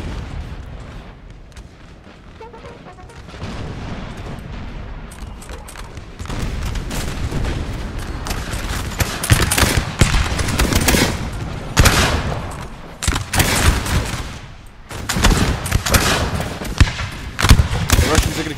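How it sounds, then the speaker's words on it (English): Musket volleys and artillery fire in a Napoleon Total War battle at Austerlitz, with dense bursts of gunfire and booms that build after a quieter start and continue through the whole stretch, loud and layered like a full field battle. "Oh my gosh, look at the volley into that unit."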